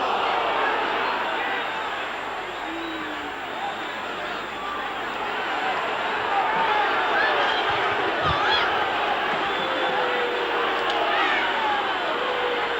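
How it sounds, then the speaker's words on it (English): Crowd noise fills a 1991 Oldham vs Salford rugby league Challenge Cup third-round match, a steady, dense roar and murmur from the stands that swells slightly midway and continues throughout. "Well, you can hear the noise from the crowd."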